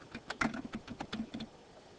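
Fingers type quickly on a computer keyboard, a quiet, close run of about a dozen crisp key clicks with no talking.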